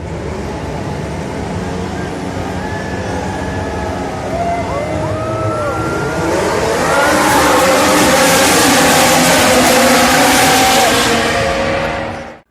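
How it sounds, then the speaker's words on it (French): Formula 1 cars start the 2019 Hungarian Grand Prix in Budapest, a loud steady roar of many engines with rising, sweeping pitches that swell as the field pulls away, crowd and track noise beneath. "démarrez vos moteurs, et c'est un départ!"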